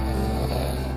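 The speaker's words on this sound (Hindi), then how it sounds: "ये तो किसी की खर्राटे की आवाज़ है।" Loud, deep snoring in a forest from a Hindi short film, a steady droning rumble lasting about a second with no talk over it.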